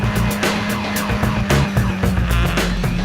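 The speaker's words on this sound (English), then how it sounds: "Most races saw a lead car train of 10 or so F1600 cars swapping positions lap after lap." A pack of F1600 race cars at speed around Road Atlanta, their engines merging into a loud, continuous, close drone with slight shifts in pitch as they run in a tight drafting train.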